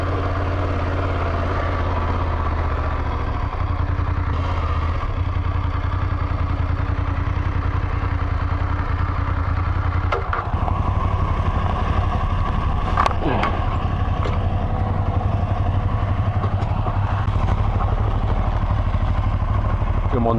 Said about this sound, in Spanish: Qué bien sube esta moto, me encanta.